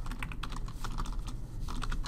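Rapid clicking keystrokes on a computer keyboard as a spreadsheet tab name is typed, a close, quick, fairly even run of taps with no talking.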